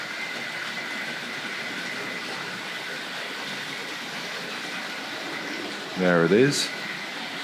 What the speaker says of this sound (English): if we get that 3-rail suburban train, let's see if we can catch that